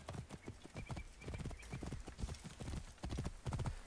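A horse gallops in the Assassin's Creed Origins video game, with quick rhythmic hoofbeats drumming steadily and fairly faintly throughout.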